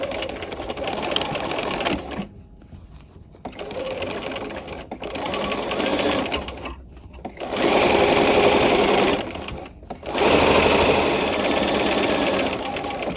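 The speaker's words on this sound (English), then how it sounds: "we're just going to sew a standard 5/8 inch seam until we get down near point A" A sewing machine stitches a standard 5/8 inch seam on a peplum sleeve cuff, running in loud, steady bursts close up, with short pauses between runs and no talking.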